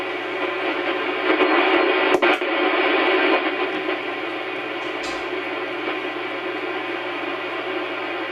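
A ham radio receiver tuned to the 160 meter band gives a steady, loud hiss of static with a low hum, with a couple of sharp clicks early on and no voices.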